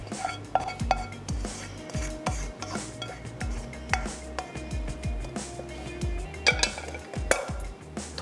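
Bhartay wala qeema being served from the pan onto a platter, with repeated metallic clinks and scrapes of a spoon against dishes in a steady, close rhythm.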